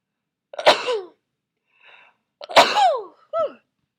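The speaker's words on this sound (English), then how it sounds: "Oh, I'm gonna sneeze." Two sharp, close sneezes during a biology lecture, separated by a pause and a faint breath, with a short vocal sound right after the second sneeze.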